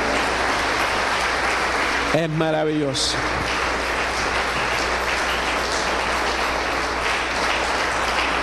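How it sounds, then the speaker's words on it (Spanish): Congregation applause during a church service: loud, continuous clapping that fills the whole stretch, briefly broken by someone speaking, then carrying on at full strength. "Dale un aplauso a Él."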